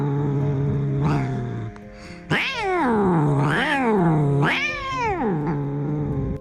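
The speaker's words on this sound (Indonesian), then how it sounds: "meongannya seakan-akan sedang marah" A cat lets out several long, drawn-out yowls, rising and falling in pitch, loud and close, sounding agitated and angry.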